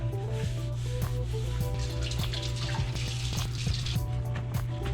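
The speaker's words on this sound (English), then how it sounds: "we want to rinse them just to get rid of the impurities" Tap water runs steadily into a sink while baby bella mushrooms are rinsed under it, a continuous close splashing flow with small irregular drips and no talking.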